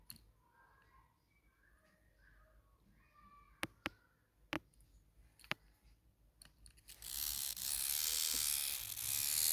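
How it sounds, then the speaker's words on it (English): Digital blood pressure monitor's small air pump starting with a few sharp clicks, then buzzing steadily and loudly for the last few seconds during a repair bench test. "Okay, the pump is running."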